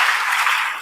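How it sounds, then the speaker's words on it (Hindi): A short burst of crowd applause welcoming a speaker at an event, many hands clapping together in a dense, steady patter. "एक बार जोरदार तालियों से स्वागत कीजिए।"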